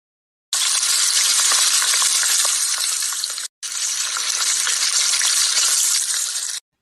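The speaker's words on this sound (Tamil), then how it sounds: "அந்த எண்ணெய் நல்லா கொதிச்சு வந்ததும் இதில் கட் பண்ணி வச்சிருக்க பிரெட் போட்டு பொரிச்சு எடுக்கணும்" Cut bread slices deep-frying in hot boiling oil, a loud steady broadband sizzle that runs continuously for about three seconds, breaks off briefly, then resumes just as strongly, with no one talking.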